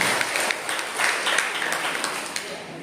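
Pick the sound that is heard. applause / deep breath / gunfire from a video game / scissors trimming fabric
applause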